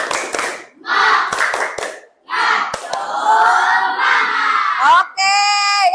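A group of people at a school activity perform a rhythmic clapping chant, bursts of claps alternating with shouted voices, close and loud, ending in a high sung or called phrase.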